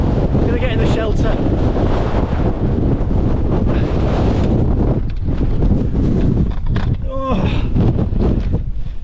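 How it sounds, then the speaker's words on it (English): Gale-force wind on the Pike of Blisco summit in the Langdales, Lake District, roaring and buffeting the microphone in a loud continuous rush, with a brief exclamation from a voice partway through. "Hopefully you can hear me with the wind."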